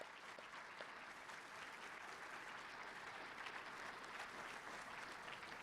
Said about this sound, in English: let's start off by giving you a round of applause for making it through all of it